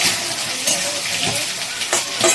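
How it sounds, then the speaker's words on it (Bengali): Food frying and being stirred in a frying pan standing in for a kadai, a steady close crackling sizzle with a few brief scraping stirs, no voices. "জাস্ট এখানে ভাজা ভাজা করছি আস্তে আস্তে হবে ভাজা ভাজাটা"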